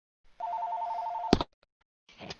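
A telephone bell rings once in a long steady trill, loud and close, then cuts off with a sharp clunk as the handset is picked up, followed by a brief burst of muffled noise.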